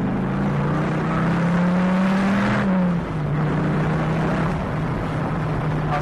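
Dodge Viper SRT-10 V10 engine pulling hard in second gear, a loud, close, steady engine roar whose pitch climbs, then drops briefly at a shift before holding on.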